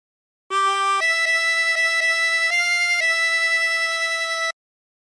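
A harmonica plays the opening phrase of Sloop John B as a short run of clean, sustained reedy notes, several repeated and then a few changes in pitch, heard solo and close for about four seconds.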